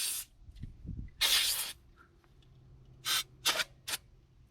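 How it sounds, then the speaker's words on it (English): Brake cleaner sprayed onto rear brake parts of a Mazda CX-9, one long aerosol hiss followed by three short sharp bursts, close and loud, with small clicks between. "If you have some brake cleaner, it's a good idea to"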